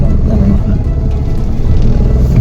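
A car is driven out, giving a steady, heavy low engine rumble close to the microphone that holds at a constant level throughout with no clear breaks.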